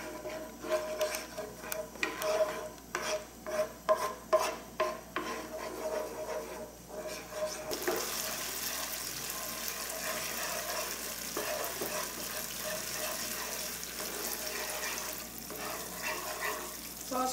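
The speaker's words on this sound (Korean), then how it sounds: "주걱으로 저어주시면서 타지 않게 기름이 흡수될 정도로 볶아주세요" Chunjang black bean paste stir-fried in oil with a spatula, giving rhythmic scraping and rubbing strokes against the pan at first, then a steady sizzling hiss that continues alone.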